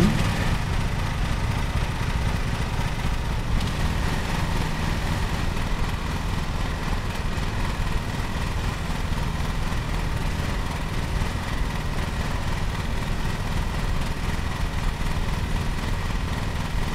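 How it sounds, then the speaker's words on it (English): A lawn mower engine runs in Lawn Mowing Simulator, a steady, loud mid-pitched drone that holds unchanged throughout with no voices over it. "Okay, so we start the engine."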